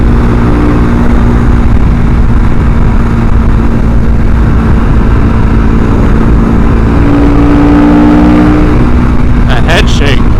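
A Husqvarna 701 motorcycle engine revving while being ridden, a loud, close, continuous roar with steady engine tones and rising pitch, mixed with heavy wind rush.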